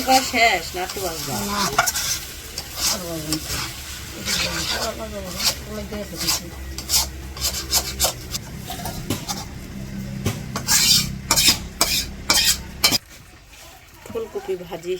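Cauliflower and potato bhaji is stir-fried on a stove in a kadai, loud sizzling broken by frequent scraping and clanking strokes of a spatula against the pan, while a voice talks over much of it before it drops quiet near the end.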